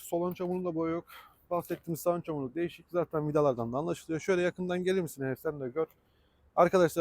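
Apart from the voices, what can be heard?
No everyday noise stands out behind the speech.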